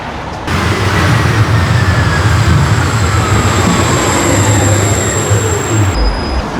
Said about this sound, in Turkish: Ve geldi bineceğimiz metro.